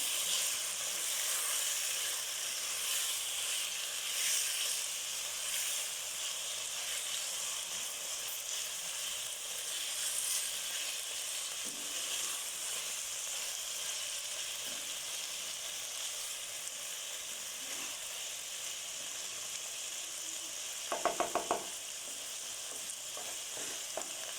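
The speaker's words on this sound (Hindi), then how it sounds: "चिकन में कलर आने तक मैं इसकी भुनाई करूँगी" Chicken pieces fry in a pan until browned for chicken jalfrezi, a continuous close, bright sizzle that stays even throughout, with a brief stirring clatter near the end.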